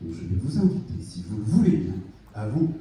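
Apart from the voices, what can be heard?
None of the usual background noises is heard.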